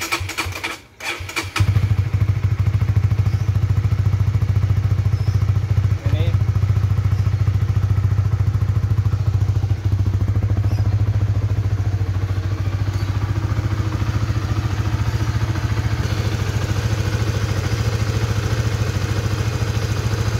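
A Honda Supra GTR 150 motorcycle engine idles steadily at close range while warming up, a loud continuous low rumble after a brief clatter at the start.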